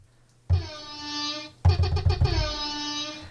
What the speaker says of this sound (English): And we've got an air horn